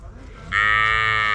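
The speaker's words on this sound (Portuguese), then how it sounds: "Bezerrão só chamando ali, falando assim, cadê meu peito?" A large calf on a farm lets out one long, loud, sustained moo that starts abruptly and holds steady to the end, close by and alone.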